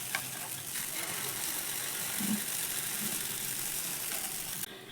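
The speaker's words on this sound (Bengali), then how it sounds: "এবার দেখো অল্প অল্প করে ব্যাটার আমি এর মধ্যে দিয়ে দেব" Batter poured in small portions into a hot pan sizzles with a steady close hiss and faint scraping, no talking, ending abruptly.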